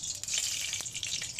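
Mustard oil crackles and sizzles in a wok, a faint, steady hiss with a few small pops over a brief moment.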